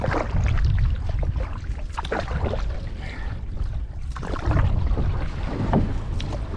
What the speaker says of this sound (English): Paddle hard.